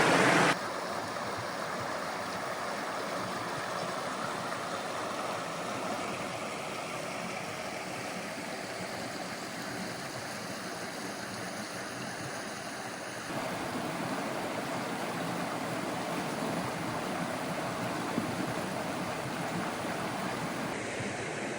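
A river or stream flowing in Grand Teton National Park, a steady broadband rush of water that holds constant throughout, with no voices.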